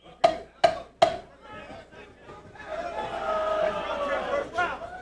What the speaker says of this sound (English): You're going to hear the oohs and ahs from the crowd as Lopez brings the crowd with him.